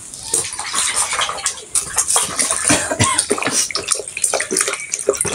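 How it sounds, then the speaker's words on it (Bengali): Bananas being rinsed under running water, with a continuous splashing and pouring that rises and falls in bursts, close and fairly loud, with no talking. "আমি কলাগুলো একটু ধুয়ে দিচ্ছি।"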